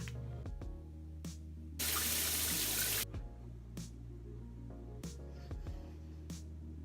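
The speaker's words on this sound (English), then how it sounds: "But I'm gonna go shower now" A home shower running, a steady hiss of water with a louder, fuller spray burst in the middle, plus a few faint knocks and clatters nearby. Nobody speaks.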